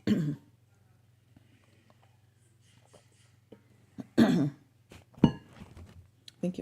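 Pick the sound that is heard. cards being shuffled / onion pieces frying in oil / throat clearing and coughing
throat clearing and coughing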